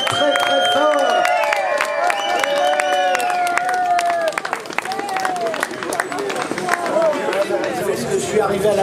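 A roadside crowd at Alpe d'Huez claps in scattered bursts and chatters loudly as vintage bike riders arrive together, with many voices talking over the applause throughout.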